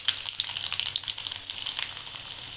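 Garlic sizzles and crackles in hot tempering oil with cumin and mustard seeds for tomato dal, a steady close frying hiss with scattered sharp pops and no voices.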